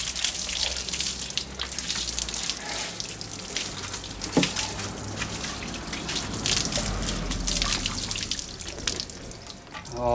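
Water splashes and pours steadily over an old motorcycle pulled from a shed after years of neglect, a continuous hissing spatter with a brief sharper knock midway.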